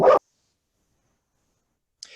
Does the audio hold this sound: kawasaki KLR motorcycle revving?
no